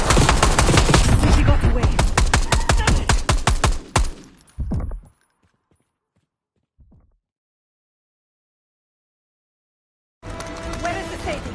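Gunfire from the Black Ops 6 campaign as a limo comes down a street: a dense, loud run of rapid shots that stops abruptly, then a few scattered thuds, several seconds of near silence, and a renewed burst of noise, with a voice speaking.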